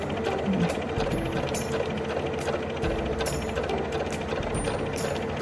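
A sewing machine stitches fabric with a fast, continuous mechanical chatter, the needle mechanism clattering in a steady rhythm that stays close and fairly loud throughout, with no voices.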